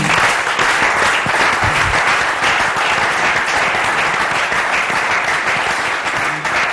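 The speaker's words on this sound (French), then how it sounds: "Je crois qu'on peut acclamer pour ça." A French-speaking church congregation breaks into long, loud, steady applause, many hands clapping together without pause for several seconds.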